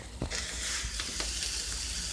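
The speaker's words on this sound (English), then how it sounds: "You can hear the sizzling. All the moisture has gone away from the sauerkraut in that pan." Sauerkraut sizzles in a frying pan on a single burner, a steady, soft hiss and crackle with a few faint clicks and no talking.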